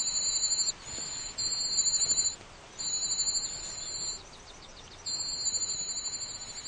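European cuckoo chick begging call that mimics a whole brood of warbler chicks, heard as bursts of high, thin, rapid squeaky cheeping repeated in several runs with short pauses, fairly faint over steady outdoor background noise.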